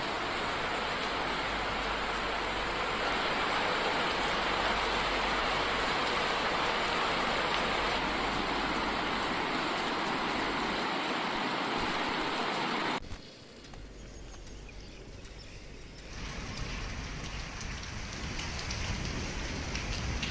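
Heavy, steady downpour in Jammu and Kashmir, a dense, continuous hiss of rain that drops off abruptly partway through, then returns just as loud.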